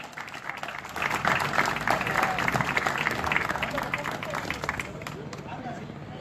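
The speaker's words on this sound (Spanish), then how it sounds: "vamos a recibirle con un aplauso como se merece" Audience applause greets a singer taking the stage at a benefit concert in a parish, a dense sustained crowd clapping that swells after the first second and holds steady with some cheering and chatter mixed in.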